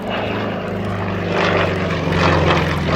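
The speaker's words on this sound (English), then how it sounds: "Gained up to about 260 miles an hour, that 400 horsepower engine working hard." A Bristol Blenheim's 400 horsepower engine roars steadily as the aircraft builds speed through a high-speed wing over near 260 mph at Bicester, a loud continuous propeller drone that swells slightly toward the end.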